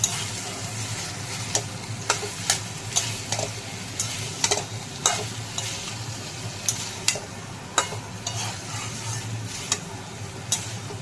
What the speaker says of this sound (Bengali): এখন সমস্ত কাবলি ছোলাগুলো দিয়ে দিলাম, দিয়ে আবারও ভালোভাবে নেড়ে নেব।